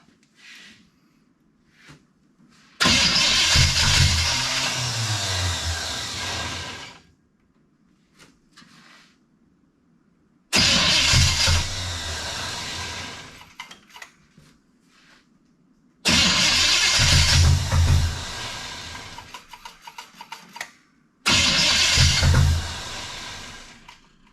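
A 1974 Pontiac Ventura with a flooded engine cranks in four long, loud bursts of several seconds each, separated by quiet pauses, the starter churning without the engine catching.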